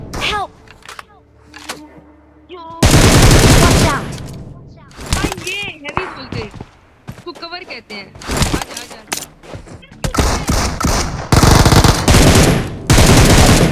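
Rapid bursts of automatic gunfire and single shots in Free Fire's Halloween mode, loud and close, alternating with short pauses and heavier sustained volleys.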